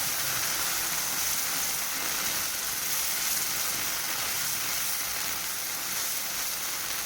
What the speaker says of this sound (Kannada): ಸ್ವಲ್ಪ ಜಾಗ್ರತೆ, ಇದು ರಟ್ಟುತ್ತದೆ ತುಂಬ, ಇದು ಯಾಕಂದರೆ ಡ್ರೈ ಮಸಾಲ ಆದ ಕಾರಣ.